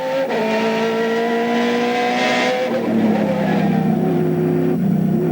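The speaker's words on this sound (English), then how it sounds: "Look at this, the Corvette's still accelerating, right past 150." Onboard a Corvette race car during the 2001 ALMS Grand Prix of Portland, the engine roars loudly as it accelerates past 150 mph, pitch climbing then dropping at a gear shift, with some tire noise.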